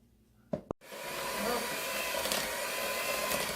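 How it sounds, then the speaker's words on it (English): A new electric hand mixer starts with a couple of clicks, then whirs steadily and loudly up close while mixing a keto strawberry cheesecake batter, with faint voices underneath. "This is a new hand mixer,"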